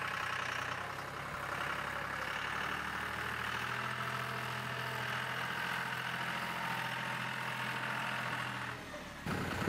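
A John Deere 5055e tractor, fitted with a Boss snowplow, idles outdoors on a cold winter morning after sitting outside, its diesel engine running with a steady low rumble close by before cutting off abruptly at the end.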